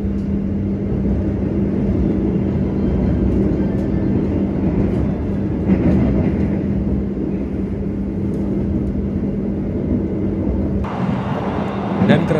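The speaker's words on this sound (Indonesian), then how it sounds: "kereta Sembrani sudah diberangkatkan tepat sesuai jadwal dari stasiun Semarang Tawang" A constant low rumble of the Sembrani passenger train departing Semarang Tawang station, heard from inside the carriage, with a steady hum and a brief shift near the end.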